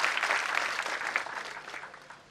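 Audience applause at a housing awareness seminar in Maharashtra, a dense burst of clapping that starts loud and slowly fades over a couple of seconds, with no talking over it.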